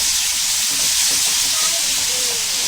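Ginger-garlic paste and a green chili, mint and coriander paste fry in oil over a low flame, with a continuous close hiss and sizzle and faint stirring.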